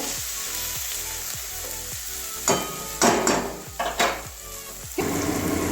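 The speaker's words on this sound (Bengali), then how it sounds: "হলুদ দিয়ে দিচ্ছি দেড় চামচ এবার ভালো করে মিশিয়ে নেব" Turmeric is stirred into a sizzling soybean and cauliflower curry, with a few scraping and clinking strokes of the spoon cutting through a constant close frying hiss; nobody speaks.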